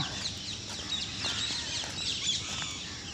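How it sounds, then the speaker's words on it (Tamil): Myna birds call in trees dense with nests along a green walking path, sharp chattering whistles rising over a busy background of other birdsong, faint and somewhat distant. "மைனா"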